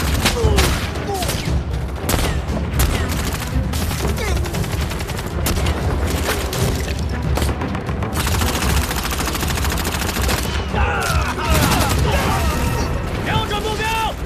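Heavy gunfire volleys in a Republican-era Chinese drama battle scene, dense rapid machine-gun bursts and loud shots running continuously, with shouted voices over the din.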